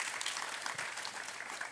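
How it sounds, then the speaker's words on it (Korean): A church congregation at an early morning service applauds together, a steady, soft wash of many hands clapping heard from a distance, with no voices over it. "우리 하나님 앞에 영광의 박수 올려드립시다."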